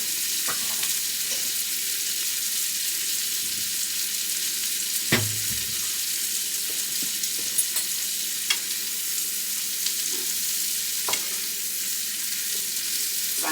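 Meat browning in a stir-fry pan gives a steady, close sizzle that runs throughout, with a few sharp scrapes and clinks of stirring scattered over it and no talking.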